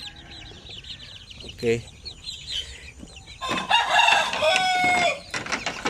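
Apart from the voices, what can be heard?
one-month-old Basilan and Zampen chicks peeping in a cage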